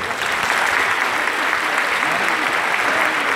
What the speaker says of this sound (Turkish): çok kuvvetli bir alkış almak istiyorum